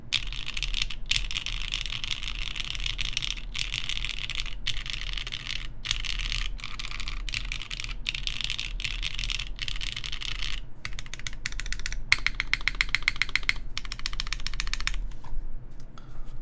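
Continuous typing on a plateless, gasket-mounted Keycult Zero mechanical keyboard, rapid crisp clacks and thocks with short pauses, close and clear over faint low hum.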